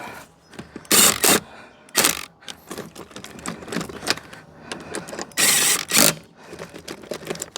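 A power tool on a Ford AU whirs wheel nuts onto the hub in loud, close, mechanical ratcheting bursts of about a second each, with quieter clattering between the bursts.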